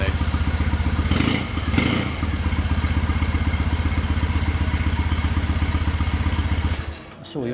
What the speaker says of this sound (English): this is such a great sounding bike